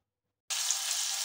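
Pork loin sizzling as it browns in a hot frying pan, a steady close hiss that starts abruptly after a brief silence and holds level.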